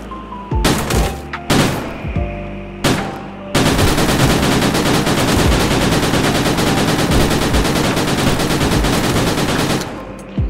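A Bison gun in the video game Gorebox fires a few separate loud shots, then a sustained rapid automatic burst rattles for several seconds, close and punchy, with no talk over it.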